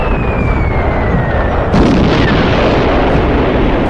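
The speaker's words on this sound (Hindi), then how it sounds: "और इधर सोन और जंडू चाचा भी ऊपर से ज़ॉम्बीज़ पे बम गिराने लगते हैं।" Cartoon bombs dropped from above blast a crowd of zombies, producing a steady, loud rumbling roar of explosions with a falling whistle before a sharper burst midway, no voices.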